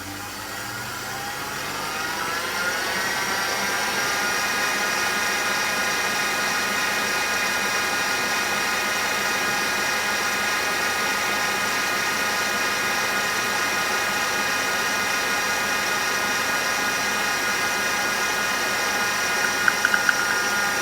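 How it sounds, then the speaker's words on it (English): An electric mixer whisks chocolate cake batter as sugar is added slowly, producing a steady, even whir that holds constant for the whole stretch with no pauses, close and fairly loud. "I am now going to continue whisking this for another 2 minutes."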